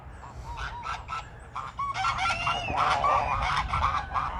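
Geese on a smallholding honking noisily, a crowded overlapping chorus of loud nasal honks building over several seconds at close range.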